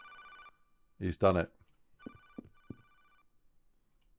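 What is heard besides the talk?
early digital era office phone ringing, sound effect in Unreal Engine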